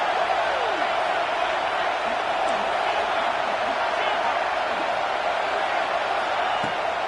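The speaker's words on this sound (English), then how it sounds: "This crowd busting the decibel meter and trying to will a 4th down stop." A loud football stadium crowd roars in a steady, dense wall of noise during a fourth-down play, sustained throughout with faint whoops rising above it.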